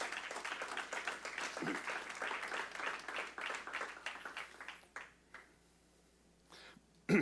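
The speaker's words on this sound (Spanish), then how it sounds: "Dale una ofrenda de palmas fuertes al Rey de Reyes" Congregation at a church service gives a strong offering of applause, a dense burst of many hands that trails off midway into near quiet with a few scattered sounds.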